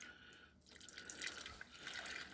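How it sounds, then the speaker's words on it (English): A little water is poured into a roasting pan of meat to rinse out the last bits, giving a close, trickling, splashing stream that runs for a couple of seconds. "So I just put a bit of water to get the last bit of this out, and then just pour that"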